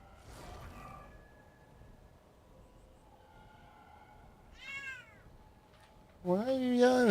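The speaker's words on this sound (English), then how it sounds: "Why are you yelling at me, cat?" A cat in the game ARK Survival Ascended meows loudly, with a few faint cries early, one clear yowl midway and a loud drawn-out meow at the end over quiet background.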